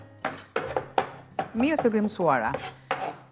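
A knife chops parsley on a cutting board in quick, uneven strokes, close by, while a person talks over the chopping.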